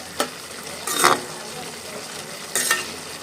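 Papaya thoran stirred in a pan, with two or three brief scraping strokes of a spoon over a soft background hiss, close and quiet, with no voices.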